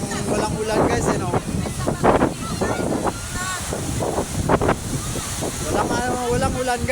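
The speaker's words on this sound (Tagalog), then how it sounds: "malakas ang hangin, at saka oh, nakakatakot yung alon no." Strong wind and big sea waves rush and roar steadily through the whole stretch, with a person talking loudly over the blustery noise.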